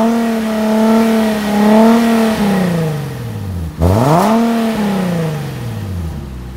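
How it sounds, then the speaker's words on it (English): Stock exhaust of a Nissan 370Z revving while stationary, a loud nearby engine note rising and falling in several blips, with one sharp dip and quick climb mid-clip, heard alone without talking. "there's a pair of functional exhaust pipes there, and as for its sound"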